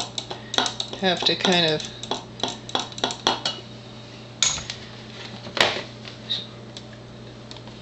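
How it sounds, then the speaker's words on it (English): A glass of Enagic Kangen ionized water is stirred, a spoon clinking and tapping repeatedly against the glass in quick irregular bursts, with a person speaking briefly near the start. "do a little stirring to get it to settle down"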